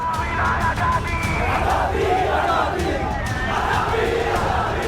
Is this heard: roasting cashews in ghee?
no